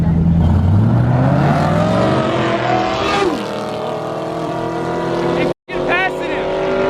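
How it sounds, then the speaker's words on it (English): Dodge Demon muscle car driving down the road during a street race, a loud engine roar that rises in pitch as it accelerates and then settles into a steady drone, with voices under it. "Demon just driving down the road."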